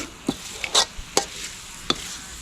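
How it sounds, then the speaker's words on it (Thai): Pork stir-fried in a pan, quick scraping and clacking strokes of a utensil over a soft sizzle, a few distinct hits spaced across the moment, with no talking. "คั่วให้หมูสุกก่อนนะครับ"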